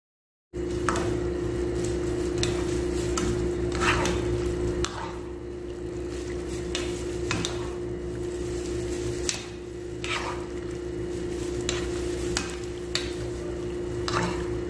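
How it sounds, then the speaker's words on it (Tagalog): Squid being stirred in a pot of boiling water, a steady bubbling and sloshing wash with scraping utensil strokes throughout, fairly close and continuous, no talking. "Hahalusan natin yung ating pusit."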